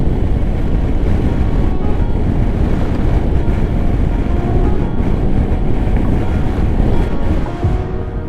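Heavy wind buffets the microphone nonstop on a misty, cold motorcycle ride near Kimende, Kenya, a loud, roaring rumble that stays constant throughout with no other clear sounds.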